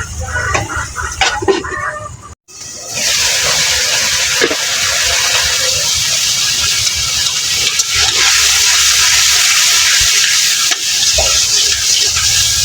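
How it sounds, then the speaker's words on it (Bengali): Spice paste being sautéed in a pan, a loud, steady hiss and crackle of sizzling after a brief stirring clatter and pause, continuing close up with occasional scrapes. "মশলাটা আমি ভালো দিয়ে কষিয়ে নিতেছি"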